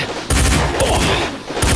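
Gunfire in a firefight, with dense bursts of rapid shots packed together, loud and close, pausing briefly and then resuming at full force.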